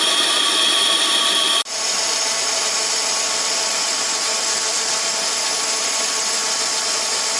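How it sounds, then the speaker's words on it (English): A small lathe turns the flange of a locomotive wheel for a 32 mm gauge garden railway, with slight drive belt slip. A steady, loud machining whine and hum runs throughout, with a short dip early on before the cut resumes evenly. "This is about as much as this lathe wants at this stage."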